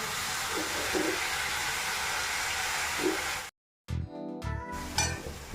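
A mix of lentils, potato, onion and tomato fries on a high flame with a loud, steady, broadband sizzle. After an abrupt cut, the sound turns into sputtering and clatter from the pan.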